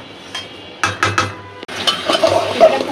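Papaya and fish being sautéed together in a pan, with a few sharp clanks of a spatula against metal followed by a brighter sizzle and scraping stir, close and fairly loud, no talking.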